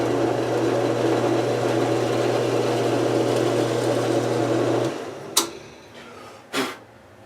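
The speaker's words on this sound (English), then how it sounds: "So now we're cutting the countersink for that cuff so that it moves up and down like a piston." A drill steadily hums while cutting a countersink into a Stratocaster guitar body for a string-through cuff, running continuously for about five seconds before stopping, followed by a couple of sharp knocks in a quiet workshop.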